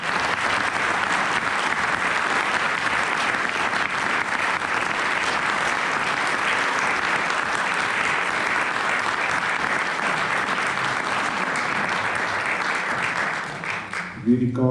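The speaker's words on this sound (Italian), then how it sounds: "io direi di fare un bel applauso a Pierpaolo." Audience applause at an evening talk, loud and continuous clapping from a seated crowd that holds steady for about fourteen seconds before it fades and a voice begins.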